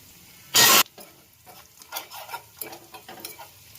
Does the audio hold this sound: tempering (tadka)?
yes